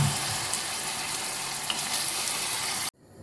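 Pork ragù simmering slowly in a pan with a splash of hot water and salt, a soft steady sizzle and bubble heard up close before cutting off abruptly near the end.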